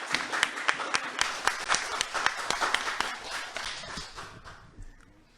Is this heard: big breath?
no